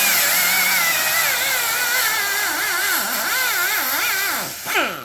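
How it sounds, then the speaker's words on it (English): A power burr tool smooths the surface of a Bombardier engine manifold, giving a loud, continuous high-pitched whine that wavers in pitch as it bears against the metal, then drops away briefly near the end. "This little tool is called a burr."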